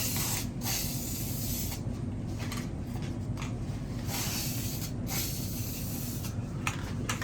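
A can sprays a coat of paint onto door hardware in steady hissing bursts with short pauses between them. The sound is close and continuous, with no talk.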